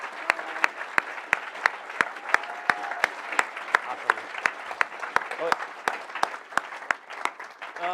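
Audience applause at a NYU Game Center lecture for Tim Schafer, a dense bed of crowd clapping punctuated by sharp, evenly spaced loud claps close by, sustained throughout with faint voices underneath.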